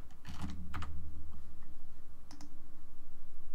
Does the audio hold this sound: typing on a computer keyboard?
yes